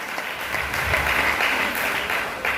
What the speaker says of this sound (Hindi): शानदार ताली बजा सकते हैं आप।